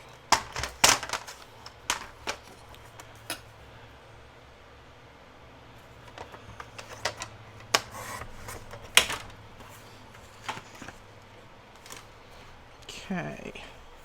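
A piece of paper is trimmed down for a vertical mini album purse craft: soft, scattered clicks and handling taps with a brief sliding rasp near the end, all fairly quiet.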